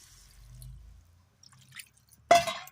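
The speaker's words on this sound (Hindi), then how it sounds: "एथरे अल्प पानी देवा" A little water is splashed into a pot of elephant foot yam curry as it cooks: a quiet kitchen, then a single short, bright pouring splash near the end.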